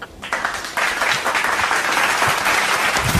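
Dense, loud applause fills a comedic smartphone awards show, a steady wash of many hands clapping from start to finish after a brief quieter opening.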